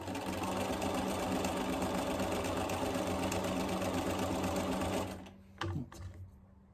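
Sewing machine stitching quilt fabric strips for crumb piecing, with a loud, steady, fast mechanical whir for about five seconds before it stops, followed by a couple of small clunks.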